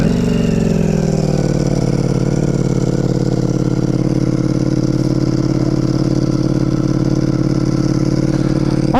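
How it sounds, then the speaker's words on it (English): Ducati Multistrada V4 RS motorcycle with a full Akrapovic exhaust, cold keyless start: the engine catches and settles into a loud, steady, close-up idle with a rough mechanical clatter, running alone throughout. "let's give it a cold keyless start"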